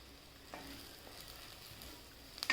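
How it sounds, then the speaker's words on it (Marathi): Ground masala with curry leaves and coriander sizzles and is stirred in a pan for a Maratha-style veg kofta curry, a quiet steady frying hiss with a few soft scrapes and a louder clatter at the end. "चांगलं परतून घ्यायचं"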